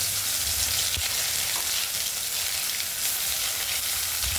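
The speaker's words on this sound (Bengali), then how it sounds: "এবার সেই তেলের মধ্যে দিয়ে দিচ্ছে পেস্টটা" Onion-ginger-garlic paste hits hot oil in a kadai for mutton liver masala and fries with a loud, continuous, close hiss, with a faint clink of stirring.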